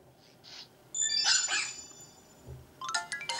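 A cartoon puppy in the Nintendogs video game gives a few short electronic barks, one burst in the middle and a quicker cluster near the end, over a faint background hum.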